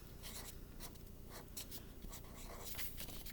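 Pen strokes scratching across paper while working out a math word problem, a steady run of close, dry scribbling sounds with short pauses between strokes and no talking.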